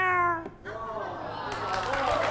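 A person on a French game show imitates a cat, giving a long, sliding meow-like wail that rises and bends, followed by murmuring and noise from the studio crowd.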